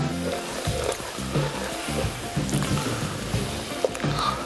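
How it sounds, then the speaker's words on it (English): A roux for crawfish étouffée is stirred in a pot, giving a soft sizzle with repeated scraping and swishing strokes at close range. "I'm going to stir that in there."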